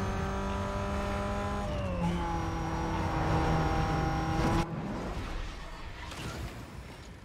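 A Chevrolet Cobalt in Need for Speed: Most Wanted accelerates, its engine tone climbing steadily through the gears with brief shift dips, loud and close, then backing off to a quieter drone.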